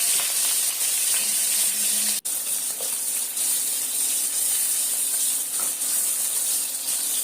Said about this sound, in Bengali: এখন মাছটা ভেজে নিচ্ছি